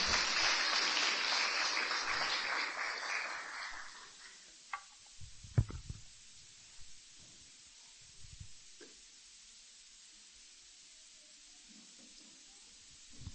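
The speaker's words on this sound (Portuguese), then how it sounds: "Dá uma salva de palmas para eles." Applause from a church congregation fades out over the first few seconds, then scattered claps and small knocks and rustles follow in a quieter room.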